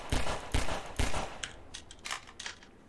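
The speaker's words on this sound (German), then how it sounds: "fünf Schüsse, bis der Barnacle, hier Klette, besiegt ist." A rapid burst of gunshots fired at a Barnacle in the video game Half-Life 2, about five sharp cracks spaced roughly half a second apart, then quieter game sounds trailing off.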